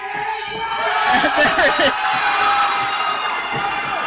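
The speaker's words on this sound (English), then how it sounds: "Crowd calling for it." Wrestling crowd at a live indie show cheering and shouting, a swell of voices peaking midway, with a commentator talking over the noise.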